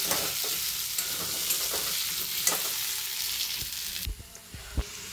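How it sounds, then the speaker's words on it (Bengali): Elephant foot yam chunks frying in oil in a pan over softened onions, a steady dense sizzle with occasional stirring clicks and scrapes, dropping to a quieter crackle near the end. "একটু লাল করে ভেজে নেব ওলটাকে"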